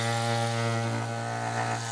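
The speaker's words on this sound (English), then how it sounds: "We're going to bring the 3x4 sander right in like this." A 3x4 sander runs against a wooden door's side window piece, giving a steady, loud motor whine with a strong buzzing hum that wavers slightly as the tool shifts, close and without voices.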